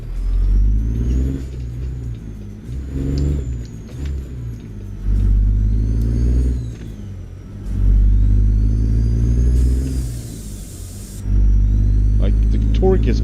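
A Kenworth KW900 truck engine in American Truck Simulator revs up and drops back repeatedly, deep and loud with rising and falling pitch through gear changes, while someone talks over it.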